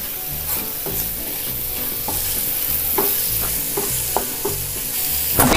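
Capsicum masala sautéing on a low flame, a steady sizzle under regular spatula scrapes and taps against the pan, close and continuous, no voices.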